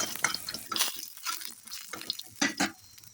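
Dry red chillies fry in a little oil in a pan, with a steady sizzle broken by scraping stirs and a few louder clattering bursts close by.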